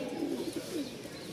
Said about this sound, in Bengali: আগে ডাক দেখেন কবুতরের